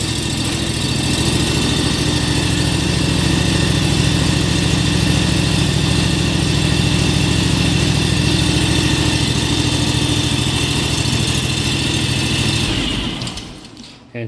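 A John Deere X585 riding lawn tractor engine runs steadily at idle after starting, a constant mid-pitched hum that cuts off abruptly near the end.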